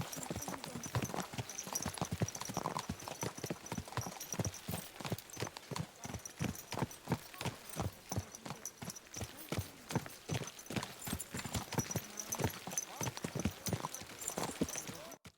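Rapid, regular hoofbeats clatter continuously from start to finish, a horse galloping close by with a steady driving rhythm, in the video game Kingdom Come: Deliverance II on PS5.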